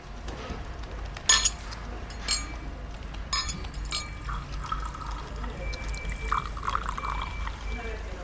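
Water is poured into a glass in a quiet room, a steady liquid trickle with a few light clinks of glass and cutlery, fairly near and alone without talk.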